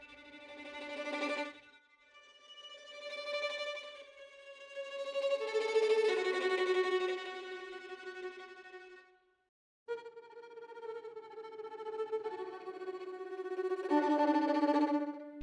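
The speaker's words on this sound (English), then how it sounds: "It's a tremolo patch." Violin tremolo patch from a sample library, rapid bowed tremolo on sustained notes moving through a slow phrase, with a brief pause before it resumes and swells, fairly quiet and with no talking.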